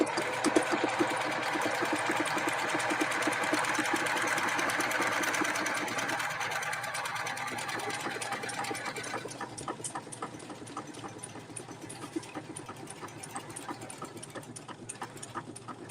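A sewing machine stitches a tote bag, humming steadily up close for most of the stretch, then running lighter and quieter toward the end, with no voices.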